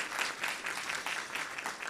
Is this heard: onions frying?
no